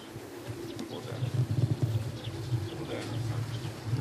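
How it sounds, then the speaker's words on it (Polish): Soft, low pigeon cooing from racing pigeons at a loft as birds return, repeated rolling coos at close range mixed with outdoor background noise. "a tutaj ten gołąb jest, o tutaj"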